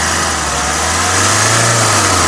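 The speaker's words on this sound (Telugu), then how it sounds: "ఇంజన్ యొక్క నాయిస్ కూడా పర్ఫెక్ట్గా అయితే ఉంది రేస్ దేదో ఎక్బార్ దేదో" A 2015 Hyundai i20 Active SX engine runs with a smooth, steady hum, the pitch rising slightly midway as if lightly revved, heard alone and close.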